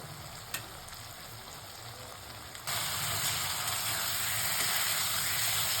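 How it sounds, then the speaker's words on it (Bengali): Chopped tomato and spices sautéing in a pan: a low frying hiss that swells abruptly partway through into a loud, steady sizzle that holds to the end. "এবার বেশ কিছুক্ষণ ধরে মশলাগুলোকে আমি ভালো করে সাঁতলে নেব।"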